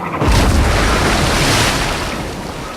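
A grenade touches off a powder keg aboard a warship, a heavy booming blast that hits at once and rolls on as a broad roar, dying slowly over a few seconds.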